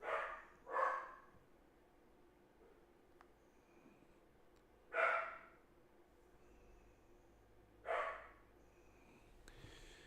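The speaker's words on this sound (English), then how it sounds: "He's a Dachshund, so he barks at every bump in the night." A Dachshund barking indoors at night, a few separate sharp barks spaced apart with quiet gaps and faint breathing between, moderately close.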